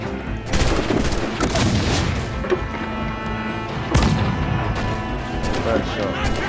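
Ship cannon fire in Assassin's Creed IV: Black Flag naval combat, heavy booming shots layered over constant sea and battle noise, with a sharp loud blast near the middle.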